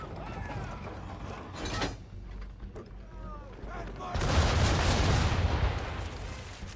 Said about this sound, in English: Bring around broadside, and when all guns are on target, call fire.